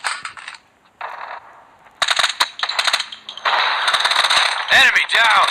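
Rapid M13 rifle fire in a shooting video game, bursts of sharp cracks in quick succession with brief gaps, loud and close, amid game radio callouts.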